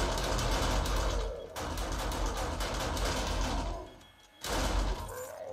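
Rapid, steady automatic fire from auto turrets in the video game 7 Days to Die chatters on in long runs, dips briefly to a near lull, then resumes at full strength.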